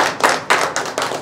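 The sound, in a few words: audience clapping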